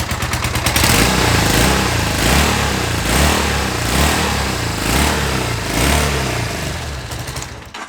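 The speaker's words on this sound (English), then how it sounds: "quickly start this bike up for you. A little 400 twin." A 1979 Honda CB400AT automatic 400 twin motorcycle, low on fuel, starts up with a brief crank, then catches into a loud, close, steady throbbing idle that swells slightly before cutting off at the end.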